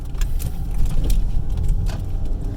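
A manual-transmission car drives steadily along in third gear with a low engine drone and road rumble, small rattling clicks scattered over it.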